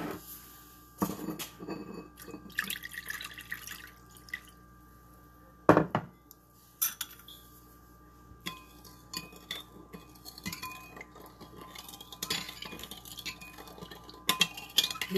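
Warm water is stirred to dissolve sugar for abolo. Quiet, scattered clinks and taps of a utensil against the container come at irregular intervals, with no talking.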